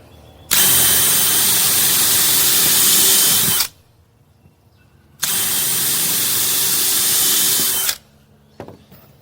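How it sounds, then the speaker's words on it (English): A power drill drives screws into warped decking timbers in two long bursts of about three seconds each, loud and steady, with quiet pauses between and no talking. "we're just going to drill one into each"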